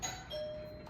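Household doorbell rung as a distraction during dog training, a quiet ding-dong chime with a short tonal ring that fades, faint and heard alone.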